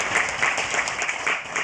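A lecture audience at a Guri city council event marking Local Autonomy and Balanced Development Day claps for a professor's 45-minute talk, in steady, dense applause with no voices over it.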